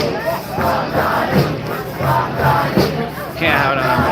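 A big crowd of supporters gathers outside the New York City mayoral debate, with loud overlapping voices, chanting and shouts filling the air continuously and people talking close by.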